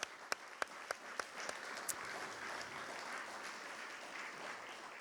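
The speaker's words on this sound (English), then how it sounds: "Everyone, please join me for one more round of applause for these candidates." At a candidate forum for Reno County Commission and Kansas House seats, an audience gives a round of applause. It opens with a few sharp separate claps, then settles into a steady, fairly faint wash of clapping.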